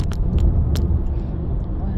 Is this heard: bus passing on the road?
yes